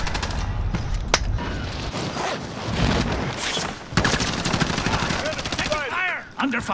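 Rapid automatic gunfire from a Call of Duty Warzone match on Rebirth Island crackles in bursts, mixed with close footsteps and game effects, and a voice shouts briefly near the end.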